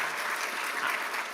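An audience at a nursing school awards and scholarship ceremony claps warmly in a dense, even wash of applause that holds steady from start to finish, with a faint voice underneath.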